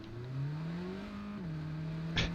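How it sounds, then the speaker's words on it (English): Small four-cylinder car engine revving up, its pitch climbing in a smooth rising whine with a brief dip and level hold, moderately close, followed by a short hiss near the end. "That little 4-banging engine just feels like it leaps out of the hood."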